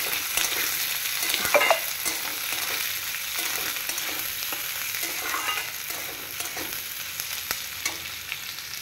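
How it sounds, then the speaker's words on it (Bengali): Onions fry in hot oil in a pan for a mutton dish, giving a steady bright sizzle broken by scraping and clinking stirs, close and fairly loud with no talking. "আমার পেঁয়াজ লাল লাল করে ভাজা হয়ে গেছে"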